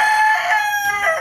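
A rooster crows once, a loud, close, strained cock-a-doodle-doo with a wavering tonal call that breaks near the end.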